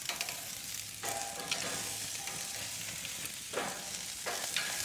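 T-bone steaks sizzle steadily on a barbecue grill, set away from the center zone to avoid flare-ups, with a constant close frying hiss and a few sharper crackles and pops rising through it.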